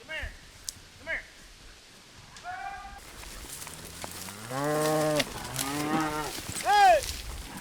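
Cattle being driven by cow dogs out of hiding places in rugged ranch country moo repeatedly, several drawn-out, fairly close calls, one loud near the end, with quieter background sounds between.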